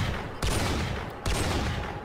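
Gunfire in RimWorld, two loud booming shots about a second apart, each followed by a sustained noisy rumble.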